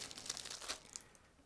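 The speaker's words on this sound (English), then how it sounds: "Now I'm opening another plastic bag" A plastic bag holding sprues from a 1/35 scale model kit of an Italian truck with a howitzer is opened, giving a brief, close, soft crinkle with a few sharper crackles and no voice.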